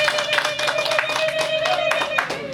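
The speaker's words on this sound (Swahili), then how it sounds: "naomba kwanza mjipigie makofi" A group of women clap for themselves at a handover of sewing machines, a steady patter of many hands running throughout with a sustained tone and some talk mixed in.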